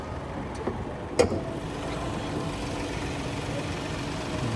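A car engine idles with a steady low rumble throughout, joined by a couple of faint clicks near the start.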